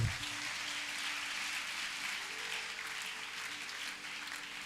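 A church congregation applauds together, a sustained, fairly distant wash of clapping filling the room without pause.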